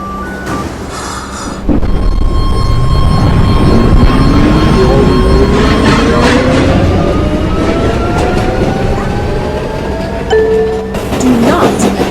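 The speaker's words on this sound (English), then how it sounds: "This is an airport-bound F train." An airport-bound F train running on rails, with a loud, steady rumble and rising whine from the motors as it picks up speed, tones climbing and holding, and a short burst of noise near the end.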